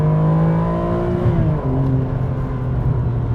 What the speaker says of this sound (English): Oh, listen to that. Oh, that Ferrari V12.